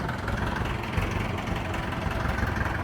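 A farm tractor engine idles steadily while parked in a field during calcitic lime spreading, a continuous low rumbling drone with no change in speed and no talk.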